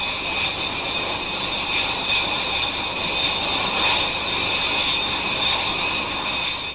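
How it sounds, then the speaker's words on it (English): Buccaneer Mark II jet strike aircraft with Rolls-Royce Spey engines roar steadily with a high, sustained whine over a broad rushing noise, loud and unbroken. "Tanks topped up, the Buccaneers pick up speed and press on."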